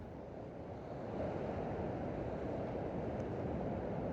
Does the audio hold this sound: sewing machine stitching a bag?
no